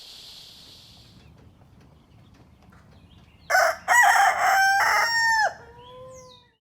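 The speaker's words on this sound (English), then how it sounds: "And all of our chickens, the big ones and the babies." A rooster crows loudly nearby in a long, wavering call, preceded by a faint sharp chirp and quiet outdoor ambience, trailing off into a softer cluck.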